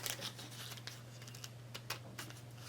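A plastic bag is handled and pulled open up close, with faint irregular crinkles and rustling snaps over a low steady hum.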